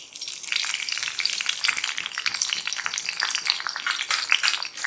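Green chillies and dried red chillies fry in hot oil in a pan, giving a steady, dense crackling sizzle that carries on at an even level, close and loud, with no voices.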